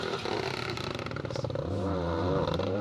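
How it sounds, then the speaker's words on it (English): A Toyota Yaris Rally 2 car engine revs and crackles nearby on an asphalt rally stage, rising and falling sharply in quick bursts. "The unmistakable sound of the Yaris Rally 2"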